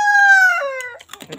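A rooster crows loudly and close up in a single long, sustained call that drops in pitch at the end, followed by a short burst of other noise.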